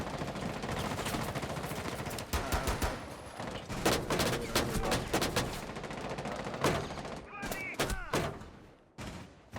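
Rapid gunfire from the Rainbow Six Siege video game, with bursts of sharp automatic shots and scattered single cracks in uneven clusters. A voice talks over the shooting at times.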